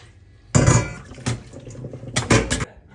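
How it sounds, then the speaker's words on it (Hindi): Boiled potatoes drained in a home kitchen: a burst of splashing, pouring water with clanks of a pot, a pause, then a second shorter rush of water and metal knocks, close and fairly loud. "तो आलू बॉईल हो गए हमारे, इसे ड्रेन कर लेते हैं।"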